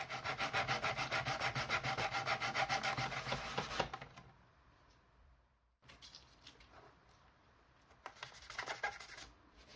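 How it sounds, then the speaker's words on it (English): Close, rapid back-and-forth scratchy rubbing of sandpaper on the plastic of a Nerf LongStrike CS-6 blaster, pausing briefly, then resuming in shorter strokes. "I'm going to start sanding some of these logos down as best I can."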